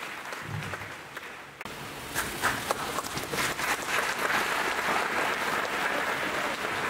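Audience applause welcoming a speaker at a spiritual talk, starting after a short quiet pause and building into dense, sustained clapping from a crowd that carries on to the end.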